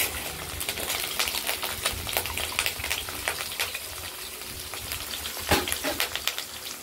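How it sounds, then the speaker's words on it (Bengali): Cut potatoes fry in a pan of hot oil tempered with bay leaf, dried red chili and cumin, giving a steady close sizzle punctuated by sharp crackles and stirring clicks, with no talking. "এরপর আমরা কেটে রাখা আলুগুলোকে ভেজে নেব।"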